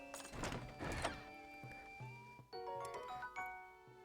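A chest opens in Zelda Tears of the Kingdom, with soft thunks followed by a rising run of chiming tones that ring out and fade, quiet and clean.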